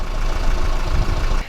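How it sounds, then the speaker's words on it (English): A 2014 Chevrolet Cruze diesel engine idles with a steady, dense rumble and clatter, close and fairly loud throughout a brief stretch with no voices. "know that modern diesels don't smell or smoke, but they do idle with a bit of a clatter."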